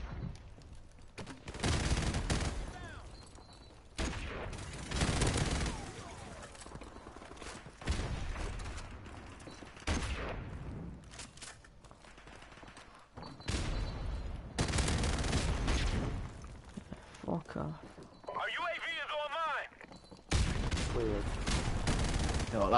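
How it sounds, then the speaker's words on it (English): Gunfire in the shooter game Call of Duty: Modern Warfare Remastered comes in repeated loud bursts and volleys, separated by short quiet gaps, with mechanical game sounds mixed in. "Wait, I'm shooting through this guy."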